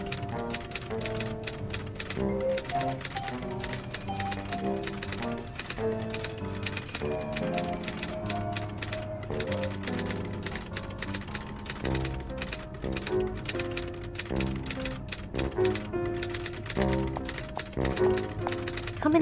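Rapid typewriter key clacks from the game 1954 Alcatraz tap away steadily beneath a louder bed of continuous music, the strikes dense and irregular throughout.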